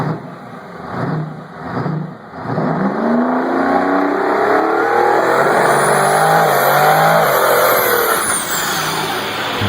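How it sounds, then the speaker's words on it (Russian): A big Detroit Diesel 12V71 V12 engine in a Freightliner Powerliner truck revs up close and loud, a couple of short blips, then a long climbing roar that holds high. "12-цилиндровый дизель Detroit 12V71"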